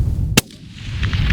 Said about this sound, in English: So we opted to take the 400-yard shot.